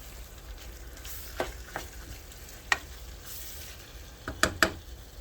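Garlic sizzles in a pan for keto cabbage soup, a steady soft frying hiss with a few sharper crackles and pops, close and alone.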